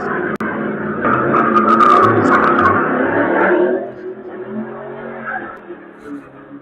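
A car revving hard and skidding with tire squeal, loud and close, the engine roar easing into a lower rumble toward the end.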